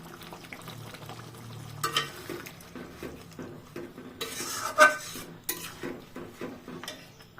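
Water poured into a pan of frying shrimp and cooked spice paste, with stirring and spoon clinks against the pan, soft sizzling and scraping in close, irregular bursts.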